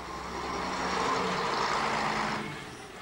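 An O-Bahn guided bus runs along the Adelaide busway, a smooth broadband rushing drone that swells toward the middle and then eases off as the bus passes close by, with no voices.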